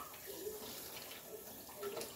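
Cold water pours steadily from a kitchen tap while dishes are washed, a continuous rushing hiss at moderate volume with no voices.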